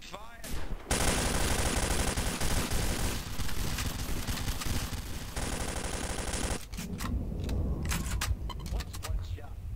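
A rifle volley from a firing squad in a World War II Soviet roleplay video game, heard as a loud, dense burst of gunfire that holds for several seconds, then fainter scattered shots and clatter.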